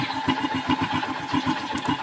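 A motorcycle engine idles during carburetor tuning with a flat screw, a steady rhythmic putter at close range, even and stable with no speech.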